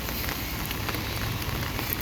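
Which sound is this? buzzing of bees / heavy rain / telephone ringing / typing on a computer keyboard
heavy rain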